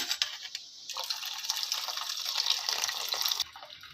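Water pours and gushes steadily from cooked rice as it is drained, splashing as it drains away, close by and fairly loud, then cuts off abruptly near the end.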